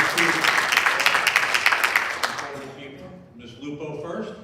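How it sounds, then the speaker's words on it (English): Audience at a school board meeting in a middle school breaks into applause, a dense wash of clapping that fades after a couple of seconds, with voices and talk following. "So please give him a round of applause."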